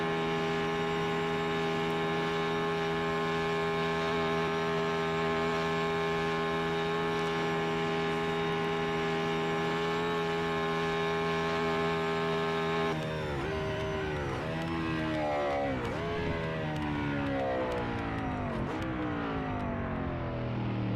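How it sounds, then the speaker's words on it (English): Race car engine in the Assetto Corsa racing game during an online historic endurance event at Le Mans, a loud steady droning hum that shifts into rising and falling revs in the last several seconds, with no talking. "I'm going to turn up the volume a little bit on the car."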